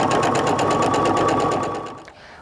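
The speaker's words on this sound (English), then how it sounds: "I'm going to just go ahead and sew" A sewing machine stitching a log cabin quilt block seam, a fast even mechanical chatter with a steady whine, loud and close, that slows and stops near the end.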